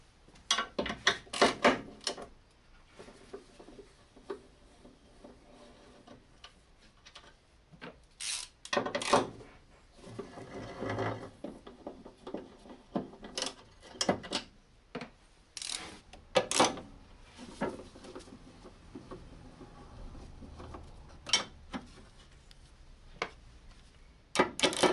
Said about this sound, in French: Je vais prendre mon gros cliquet, ma douille de 12 et ma rallonge et je vais venir démonter la barre stab.